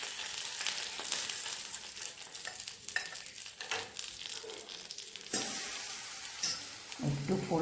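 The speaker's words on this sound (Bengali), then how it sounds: "একেবারে মানে ফটফট করতে থাকে কারি পাতা পড়লে পরে।" Curry leaves crackle and sizzle in hot oil for tomato upma, a busy spattering fry with stirring clatter, growing louder toward the end, with no talking.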